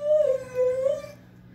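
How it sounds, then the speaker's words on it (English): A dog gives a single drawn-out howling whine that wavers in pitch for about a second before fading, close by and alone. "Oh, I spoke too soon about Penny Lane and the barking, didn't I?"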